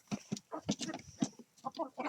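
A farmyard rooster clucks in a quick run of short, close bursts, about a dozen rapid throaty notes at feeding time.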